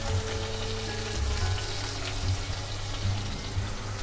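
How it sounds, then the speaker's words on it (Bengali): Chopped onions frying in a pan after garlic paste goes in, a steady soft sizzle with faint bubbling, close and continuous, no talking. "পেঁয়াজ কুচিটা সামান্য লাল হবে ততক্ষণ পর্যন্ত আমরা ভাজবো।"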